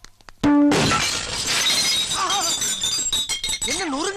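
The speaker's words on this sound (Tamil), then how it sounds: "வாசப்படி நினைச்சு கண்ணாடி நொறுக்கி தள்ளிட்டாங்களே" Glass smashed and shattering in a comedy scene, one sudden loud crash followed by tinkling shards, with excited voices calling out afterward.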